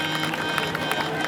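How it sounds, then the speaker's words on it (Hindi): Steady crowd applause fills the air at the Baba Balaknath Chet fair in Deotsidh, Himachal, a dense continuous patter of clapping heard up close without pause. "बहुत जोरदार तालियां लगाइए इनकी।"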